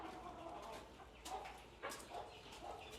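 A rooster or hen clucks in a few short, faint bursts, distant and quiet against a soft background hiss.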